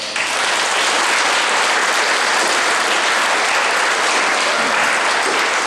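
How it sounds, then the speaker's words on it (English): Students fill a room with loud, dense applause at a veterans ceremony in Siletz, Oregon, a sustained roar of many hands clapping close by that holds steady for several seconds. "Give yourself a big applause."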